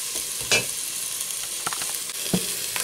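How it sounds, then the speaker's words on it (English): Onions and garlic frying in a pan, a steady crackling sizzle with a few sharper pops and stirring clatters close by. "The onions and garlic are frying nicely"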